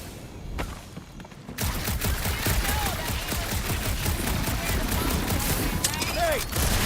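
Dense, sustained gunfire in a dark interior of the game Guardians of the Galaxy, rapid overlapping shots running steadily after a quieter opening, with voices talking over the shooting.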